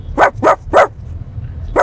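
A woman imitates a dog with her voice, giving three quick close barks in a row, then a pause and a fourth bark, loud and alone without other talk.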